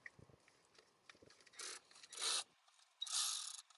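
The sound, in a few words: tool trying to loosen drive shaft bolts on 1967 Lincoln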